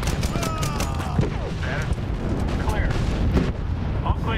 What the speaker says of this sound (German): Ich finde, die Waffen haben echt einen guten Sound hier.